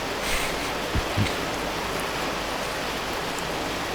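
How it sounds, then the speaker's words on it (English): Heavy rain in the video game Cataclysm: Dark Days Ahead, a loud dense steady hiss of downpour filling the whole clip, with a couple of faint brief knocks and no talk. "That rain is really coming down."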